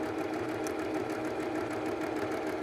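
Sewing machine running steadily while stitching a decorative pillow cover, a continuous even mechanical hum with fast needle rhythm, close up and alone without talk.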